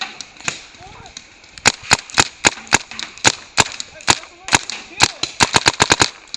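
Rapid bursts of sharp popping paintball gunfire during a paintball game, fired in quick irregular volleys that grow denser toward the end, close and loud.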